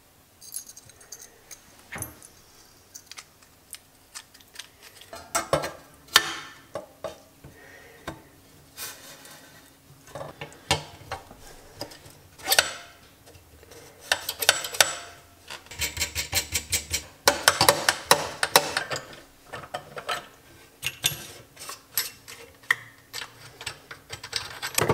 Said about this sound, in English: I'll finish putting the spit valve back together, and then final assembly